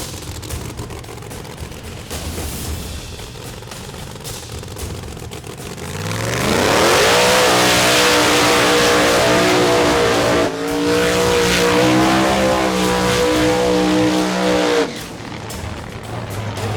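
Outlaw 32 drag race cars launching in a final at Famoso Dragstrip, a loud sudden roar of engines rising in pitch, holding at full power for several seconds and then cutting off to a lower rumble.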